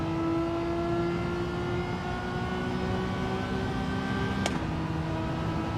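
Gran Turismo 7 race car engine drones at a steady high pitch from an in-game car running a straight in a Gr.4 race, loud and continuous with a brief tick partway through.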